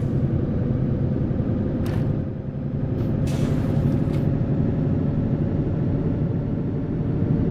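Air brakes on a truck in a truck simulator game hiss in a few short bursts partway through, sitting over a loud, continuous engine and road rumble with no talk.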